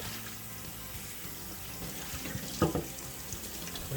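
Tap water runs steadily into a kitchen sink while a whole turkey is rinsed out after the neck is removed, a continuous moderate splashing with a brief louder gush partway through.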